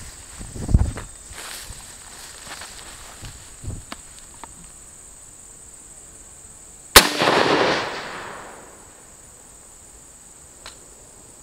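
A single sharp 5.56 rifle shot fired at stacked tires outdoors cracks loudly near the middle, trailing a brief echo, with crickets chirping steadily in the background and a few faint footsteps before it.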